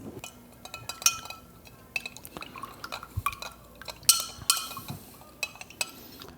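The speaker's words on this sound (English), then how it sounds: "Now we're gonna stir to dissolve that honey." Spoon clinking and stirring in a glass as honey dissolves into a non-alcoholic coffee old fashioned, a series of close, bright metallic taps and scrapes scattered irregularly with no talking.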